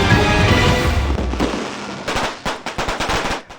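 New Year fireworks and firecrackers go off, first as a dense, loud crackling barrage and then as a rapid string of sharp separate pops.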